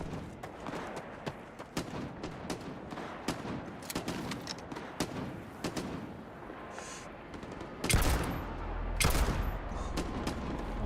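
Rapid gunfire from the video game Starfield, with sharp shots fired in quick bursts and volleys, loud and continuous with heavier blasts toward the end.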